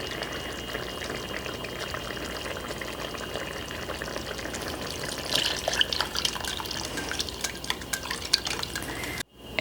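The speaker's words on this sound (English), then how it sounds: "So now we can add that cornstarch slurry that we created." Cornstarch slurry pours into reducing white wine and garlic with a continuous wet, bubbling trickle that grows busier toward the end, then cuts out briefly.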